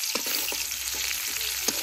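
Whole cumin, chopped onion and garlic frying in oil in a kadai, a steady close sizzle broken by small crackles and stirring scrapes.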